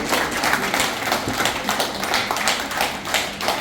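An indoor audience at a geriatric awareness event claps together in a dense, steady burst of applause, moderately loud and continuous throughout, with no voices over it.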